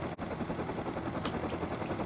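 A helicopter in the video game Rust sends out a steady, dense rotor roar that fills the whole moment at a constant loud level, with a brief dip near the start and no talking.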